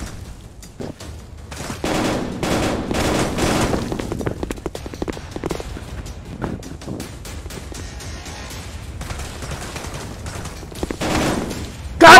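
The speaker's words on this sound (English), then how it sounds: "Why you shot me through the wall?" Rapid gunfire fills a VR shooter game, dense bursts of automatic shots and single cracks overlapping in loud volleys with brief gaps.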